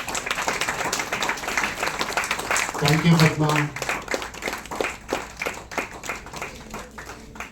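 Audience clapping at a tech conference Q&A session for a keynote speaker, a moderately dense run of claps of even loudness, with a voice briefly speaking over it partway through.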